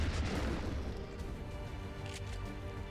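Muffled, low booms of gunfire in the XCOM 2 Long War 2 video game, quiet and somewhat distant, with a couple of softer bursts rolling through the short stretch.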